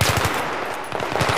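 Rapid automatic gunfire in a competitive 5v5 video game match, loud and close, with two quick bursts of rhythmic shots separated by a brief lull.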